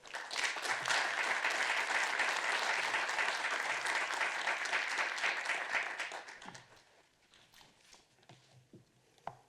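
Conference audience applauding to welcome a speaker, dense sustained clapping for about six seconds that fades into scattered claps and quiet room noise.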